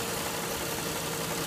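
A warmed-up 2004 Toyota Harrier engine idles nearby in a steady, even rumble with no change in pace.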